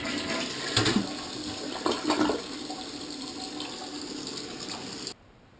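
A Mansfield model 3386 toilet doing a full flush: a steady rushing of water runs for about five seconds with a couple of louder gurgling surges, then cuts off abruptly. The sound is close and has no talk over it.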